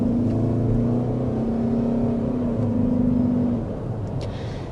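A 2026 Toyota Grand Highlander XLE hybrid's gasoline engine drones at an even pitch, then eases slightly quieter near the end, with no talking.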